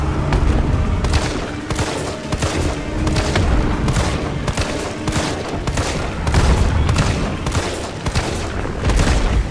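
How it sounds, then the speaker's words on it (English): Repeated gunshots in Resident Evil 3, a steady string of loud, close blasts with booming low rumble, continuous across the whole stretch. "I'll try shooting it this time."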